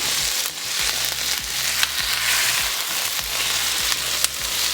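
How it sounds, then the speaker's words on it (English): Tomatoes sauteing with onions in a pan for spicy chole masala, a steady close sizzle with repeated rhythmic scraping strokes of stirring throughout. "Now I'm adding tomatoes. Now I'm saute it with a onion."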